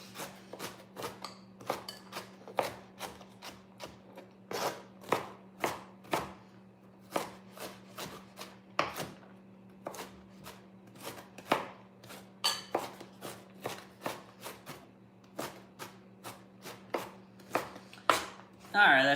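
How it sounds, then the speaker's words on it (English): A knife chops two carrots on a cutting board for a salad, giving rapid, steady, crisp knocks up close against a faint constant hum, with brief pauses between bursts. "if you don't like carrots chopped up like this"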